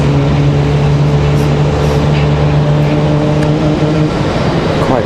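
United Airlines Boeing 737 MAX 8 or MAX 9 jet engines spooling up at Raleigh-Durham International Airport: a loud, steady roar with a low sustained hum, continuous and close, no talk.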